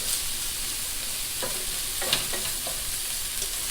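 A side dish mixture stirred in a pan, with a steady sizzling hiss and scattered scraping strokes of a utensil, close and continuous for a few seconds with no voices.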